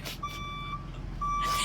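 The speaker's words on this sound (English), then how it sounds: "It beeps when you back up." Reversing beeper on a Ford Transit XLT 350 passenger van, two steady electronic beeps separated by a pause over a low idling engine rumble.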